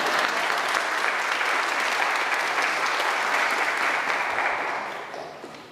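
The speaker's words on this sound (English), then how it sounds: "I feel like we should clap" Audience clapping fills the room steadily for nearly five seconds, a dense wash of many hands that then thins and fades toward the end.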